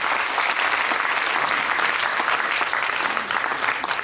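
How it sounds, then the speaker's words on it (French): A crowd at a round-table conference on political representation claps loudly and steadily, a dense continuous burst of many hands filling about four seconds without any talking. "encore applaudissements pour Wilfried"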